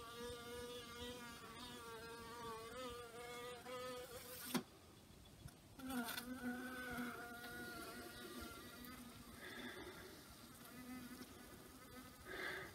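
Honeybees buzzing steadily and close during an indoor winter hive check, a soft continuous drone with shifting pitch and a brief knock partway through.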